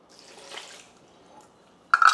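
Water poured into a Vitamix high-speed blender jar holding pitted medjool dates, a soft splash early on, then a quiet pause before a louder burst of pouring and sloshing at the end.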